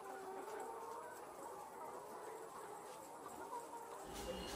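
CP pullet chickens on a poultry farm clucking steadily, a continuous murmur of many birds at moderate distance with a brief louder rustle near the end.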